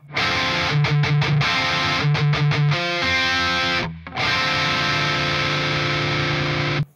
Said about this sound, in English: This next one is a minor seventh power chord.